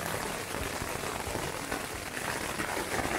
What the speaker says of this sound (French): Je suis en train de subir un super orage.